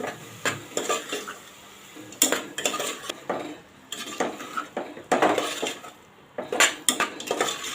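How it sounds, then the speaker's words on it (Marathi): A spoon clanks and scrapes against a pan as a ginger, garlic, green chili and coriander paste is sautéed in oil for matar pulav, loud metallic strokes in irregular bursts with a soft sizzle between them and no talking. "एखाद मिनिट हे मसाले सर्व परतून घ्यायचे"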